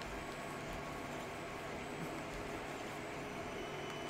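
An Anycubic i3 Mega 3D printer runs a print at a raised feed rate, giving a steady, faint whirring hum with no pauses and no talking.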